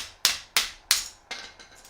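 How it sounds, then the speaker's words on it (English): A small hammer cracks a geode with four sharp, evenly spaced taps, each a crisp click, followed by a couple of fainter, lighter knocks. "It's always good to have a little hammer."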